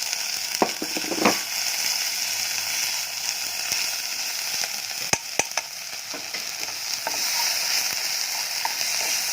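Balinese bumbu spice paste for sayur urap frying in a hot pan, a steady loud sizzling hiss broken by a few sharp clicks and scrapes of a utensil.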